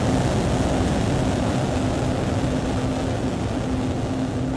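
A SpaceX Starship rocket's engines throttle up in a steady, dense roar that fills the whole clip at constant loudness, with no voices over it.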